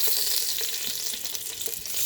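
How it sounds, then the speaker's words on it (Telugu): Whole spices, bay leaf, cinnamon, cardamom, cloves and dried red chillies, fry in hot oil with a dense, continuous close-up sizzle and soft crackles throughout, no talking. "ఇప్పుడు బిర్యానీ ఆకు, పట్ట, ఇలాచి, లవంగ్, ఎండుమిరపకాయలు ఇవన్నీ వేసుకుందాము."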